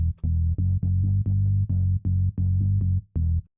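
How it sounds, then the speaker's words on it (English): An MK Bass Hollow Octave synth bass preset in a house track plays a rhythmic run of short, punchy, warm low notes with brief gaps between them, loud and dry with nothing else heard. "So for this track, I'm actually going to use one of the bass presets that I use quite a bit"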